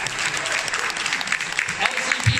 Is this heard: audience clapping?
yes